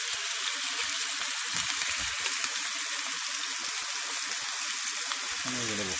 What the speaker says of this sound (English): Put the old Scotch fillet in the old cast iron griddle.